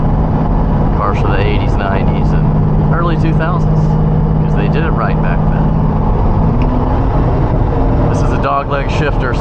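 Lamborghini Diablo engine droning steadily as the car drives, a loud constant low rumble with rising and falling pitch as gears change, heard under someone talking throughout.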